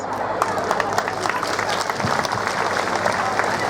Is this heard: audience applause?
yes